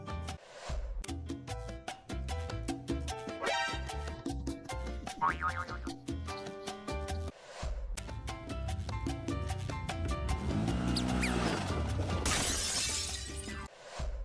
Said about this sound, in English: A girl walking in a store crashes into a glass door she didn't notice.